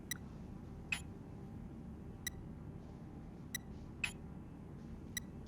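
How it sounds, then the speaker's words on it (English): Short electronic beeps in the video game Harold Halibut, five or six sharp isolated bleeps spaced unevenly over a quiet low background hum. "I heard a beep."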